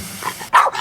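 A single short, loud dog bark rings out near the end of a brief moment, following a faint whimpering lead-in.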